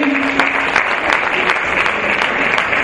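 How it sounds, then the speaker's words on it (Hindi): Loud, sustained applause from an audience at a Maharaj Agrasen Jayanti stage function, dense clapping with occasional sharper claps standing out, continuous throughout. "जोरदार तालियां दीजिए प्लीज।"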